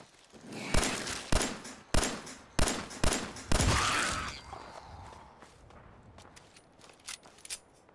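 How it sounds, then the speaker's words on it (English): Incoming gunfire aimed at the player in Fallout 4 cracks out as a string of sharp, loud shots in an irregular rhythm during the first four seconds, then gives way to softer scattered impacts and quiet. "Who is shooting me?"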